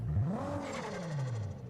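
One quick rev from a turbocharged car engine in Test Drive Unlimited Solar Crown climbs fast and then winds back down. The engine is close and loud, and nobody speaks over it.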